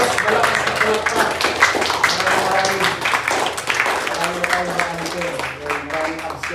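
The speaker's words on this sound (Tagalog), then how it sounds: "malakas na palakpak" A church congregation claps loudly and steadily, a dense patter of hands mixed with a preacher's talk and voices across the room.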